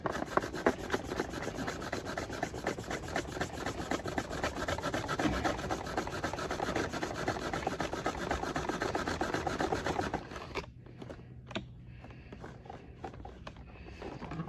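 Small metal vise scrubbed with a green abrasive pad, a loud continuous rapid rasping rub for about ten seconds, then quieter intermittent scraping strokes.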